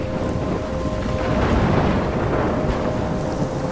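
Thunderstorm in the game Life is Strange: constant heavy rain and wind with a deep rolling rumble of thunder that builds and fades, loud and unbroken throughout.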